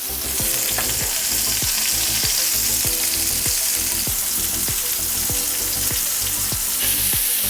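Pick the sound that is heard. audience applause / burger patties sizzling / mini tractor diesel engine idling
burger patties sizzling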